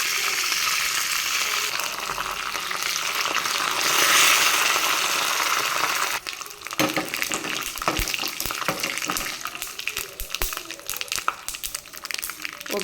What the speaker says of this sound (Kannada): ಈಗ ಸಾಸಿವೆ ಮತ್ತು ಕರಿಬೇವು ಹಾಕ್ಕೊಳ್ಳೋಣ